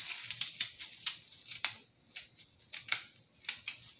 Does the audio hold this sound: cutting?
yes